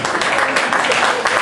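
Audience at a magic show in Courtenay, Canada, giving a dense, steady burst of applause and clapping that fills the room throughout.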